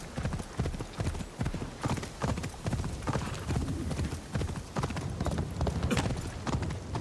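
Horse hooves clip-clop steadily and continuously as horses move through a city in a video game, a close, busy rhythm of overlapping hoofbeats throughout with faint voices beneath.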